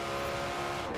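Engine of a car in Forza Horizon 4, a steady, dense mechanical drone held at constant loudness for about a second with no talk over it.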